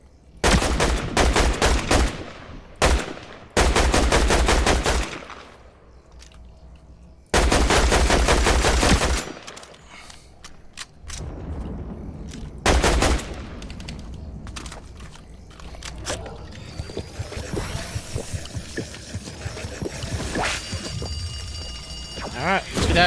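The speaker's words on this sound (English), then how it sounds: "Where did that shooting come from?" Video game gunfire cracks out in loud bursts of rapid automatic fire and single shots, some close and punchy and some quieter in the distance, spread across the stretch with casual talk between the volleys.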